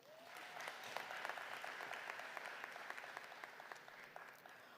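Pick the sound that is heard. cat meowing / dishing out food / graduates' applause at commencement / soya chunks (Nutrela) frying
graduates' applause at commencement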